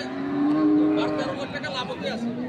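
A cow gives a long, loud, close moo at a busy village cattle market where dairy cows and calves of Sahiwal, Sindhi and local breeds are sold, with faint crowd murmur behind.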